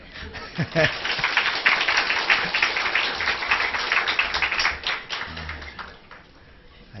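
A church congregation claps for the choir in a burst of applause that swells and then fades, with speech heard around it.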